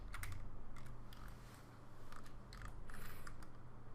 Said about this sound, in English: shift key and click